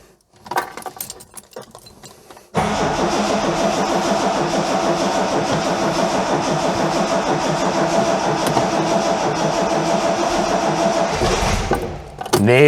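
A Ford Capri Mk1 engine that has sat for eight years, cranked with a little throttle and no choke, with scattered rattles first, then a loud, steady mechanical churning for about ten seconds before cutting off, with a voice around it.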